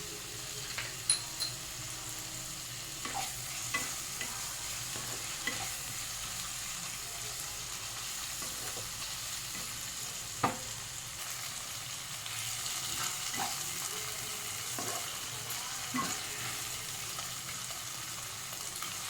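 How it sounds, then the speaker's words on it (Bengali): Chopped tomatoes with a little salt sautéing in a pan for chicken kofta, a soft continuous sizzle with occasional stirring scrapes and clicks, fairly quiet and with no voices. "কষিয়ে নিতে হবে, টমেটোটা সেদ্ধ হওয়া পর্যন্ত"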